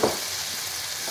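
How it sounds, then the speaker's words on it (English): Onions with a splash of water sizzling in a pan, a soft continuous frying hiss heard up close with no talk. "Hear that little sizzle?"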